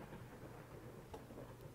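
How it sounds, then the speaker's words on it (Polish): A thunderstorm rumbles faintly and steadily in the horror video game Layers of Fear, a low continuous roll of rain and distant thunder with one brief crackle, no voices. "I akurat musi być burza, nie?"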